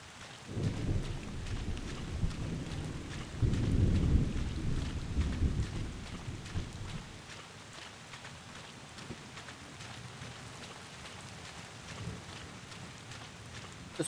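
Rain falls steadily in the video game Bottle: Pilgrim Redux, with low rumbles of thunder rolling in twice early on before the downpour settles into a soft, continuous hiss.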